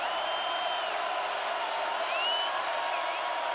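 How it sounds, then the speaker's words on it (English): A stadium crowd in NCAA Football 2007, at a Boston College vs Notre Dame game, sends up a steady roar of cheering and whooping from a distance, with whistles rising above a continuous wash of noise. "Crowd given new life."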